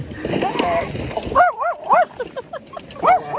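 Dog on a busy beach whining and yelping in high, wavering bursts, fairly close, with voices murmuring beneath and around it.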